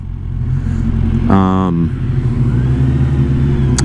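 A 2021 Kawasaki Versys 1000 SE motorcycle idles loudly and then gives one short, sharp rev that climbs and falls back to a steady close rumble.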